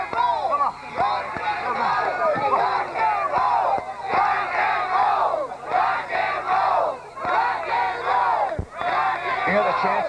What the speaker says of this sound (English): Chance of rock and roll now from the crowd.